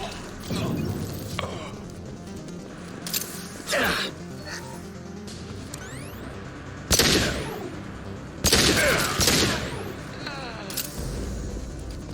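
Weapon fire in the science-fiction shooter game Mass Effect 2, with sharp bursts of shots clustered around the middle and end, over a continuous game music and ambience bed, with brief voice lines.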